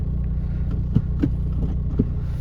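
A VW TDI Beetle pulls away as the clutch is let out, a low diesel rumble under several brief thumps and knocks, fairly close and moderately loud, with no voices.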